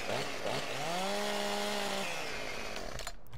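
Chainsaw in the video game Farming Simulator 2015, a loud steady engine drone rising and holding in pitch, then dropping back to idle, close and continuous.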